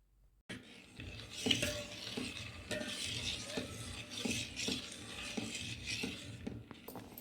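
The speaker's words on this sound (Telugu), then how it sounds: "దాన్ని అలా కలుపుతూ ఉందాం కలుపు" A spoon works steadily through thick rice-semolina dough in a metal pot, giving repeated scraping and knocking strokes at close range with no voices.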